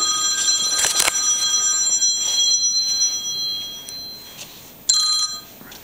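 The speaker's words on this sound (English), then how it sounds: "That was my phone." A mobile phone rings inside a house for sale with a large bedroom, giving bright repeated electronic tones in short bursts with pauses between them, fairly close and clear.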